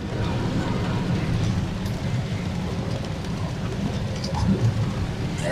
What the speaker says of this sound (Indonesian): Hari hujan.